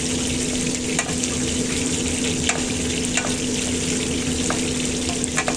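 Garlic fries in a pan with water and oil for a spicy fish cream sauce, sizzling loudly and steadily with occasional clicks of stirring and no voices.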